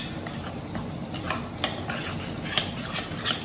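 A spoon works through thick tomato masala with curd in a pan for paneer tikka masala, giving steady soft scraping and stirring with a few sharper clinks against the metal, close and continuous with a faint sizzle beneath.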